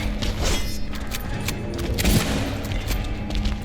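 Rifle fire in Silent Hill 2, a handful of loud, sharp shots with heavy booming thuds among dense, noisy game sound, with no talk over them.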